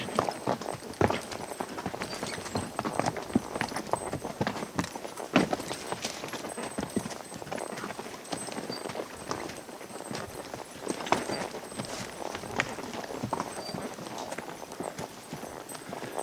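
Gaited mules walking along a timber trail on a Colorado ride, hooves clip-clopping in a steady, busy rhythm up close for the whole stretch, with faint rustling and no talk.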